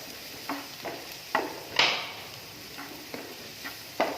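Garam masala and turmeric being stirred into a pan, heard as sharp spoon-on-pan scrapes and knocks at an uneven rhythm over a faint low sizzle.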